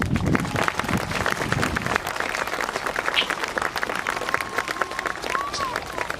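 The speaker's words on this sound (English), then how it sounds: "I don't see why a bit of clapping won't hurt for this" Sustained crowd applause fills a civic celebration hall, dense and steady throughout, with faint voices mixed into the clapping.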